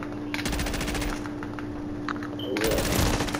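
Call of Duty gunfire crackles in rapid automatic bursts, a steady rattle of close shots that pauses briefly and then resumes louder, with someone talking over the action.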